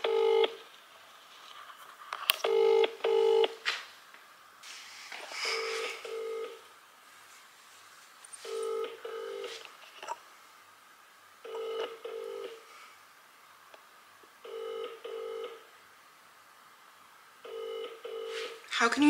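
A mobile phone call rings out unanswered, its repeated paired ringback tones sounding at a steady rhythm between pauses, clear and close, with some talking in between.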